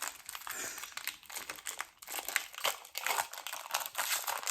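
A Pokémon Astres Radieux booster pack's foil wrapper crinkles and tears as it is opened by hand, close and bright, in irregular bursts of crackling throughout with no talking.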